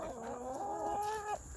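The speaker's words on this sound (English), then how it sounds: "I am out here feeding the chickens" A chicken gives a drawn-out, wavering cluck-like call during morning feeding, close and clear over quiet outdoor background.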